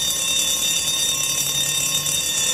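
A fire alarm in the horror video game Daylight rings steadily and loudly throughout, a continuous shrill electronic tone with no pauses.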